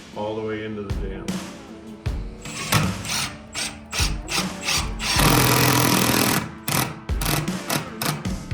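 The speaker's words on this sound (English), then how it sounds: "Long screw all the way into the jam." Long screw driven into a wooden door jamb and stud during a door installation, heard as repeated bursts of drill whirring and ratcheting, close and fairly loud, with short pauses between runs.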